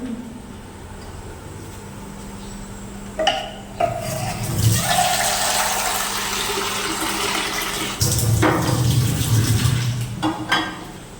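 Water pours and splashes onto garden plants, a close, steady rushing hiss broken by a few sharper gushes, with no talking.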